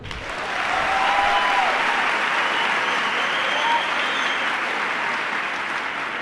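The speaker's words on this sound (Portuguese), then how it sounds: "Quem está me ouvindo pode aplaudir." A congregation applauds during a sermon, steady full clapping that swells in and holds loud for several seconds with faint voices mixed in.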